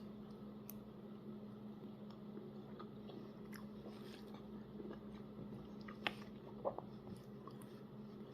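Soft, close chewing of cooked-down cabbage, with faint wet crunches and a few small clicks over a low steady hum, no talking.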